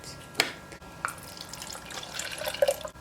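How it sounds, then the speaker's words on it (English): Water runs and splashes into a cup of instant coffee being mixed with no sugar, a soft trickle with a few small drips and clinks, close and fairly quiet. "I'm going to be mixing some instant coffee with water."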